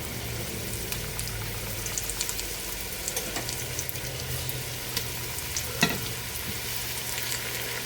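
Pieces of beef browning in a hot frying pan, a steady close sizzle and crackle with faint clinks and stirring, no talking.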